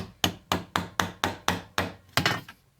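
Steady hammer blows on the edge of a steel vambrace armguard being bent, about ten sharp evenly spaced strikes in under three seconds, close and loud with no talk.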